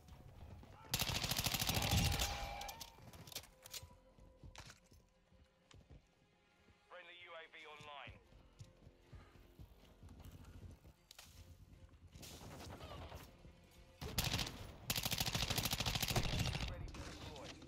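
Bursts of rapid gunfire from a Desert Eagle pistol in a Modern Warfare video game, loud volleys at the start and end with quieter shots and game effects between, while someone talks throughout.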